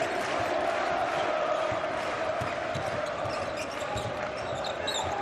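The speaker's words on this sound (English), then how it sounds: "The crowd are on their feet, willing their team forward." Basketball arena crowd cheering for Fenerbahçe during a Euroleague game: a dense, loud roar of voices holding steady throughout, with scattered claps and shouts rising out of it.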